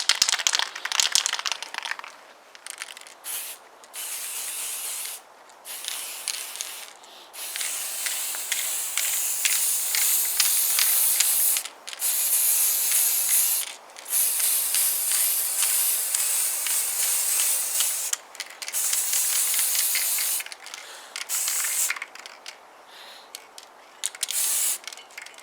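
Spray painting a Kawasaki BN125 Eliminator mudguard and light bracket, long hissing aerosol bursts close to the can, separated by brief pauses, continuing for nearly half a minute.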